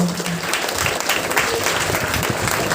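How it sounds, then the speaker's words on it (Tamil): An audience at a World Mother Language Day seminar claps steadily, a dense, even wash of applause filling the room for a few seconds. "பவதானிக்கு நமது கைத்தட்டங்களால்"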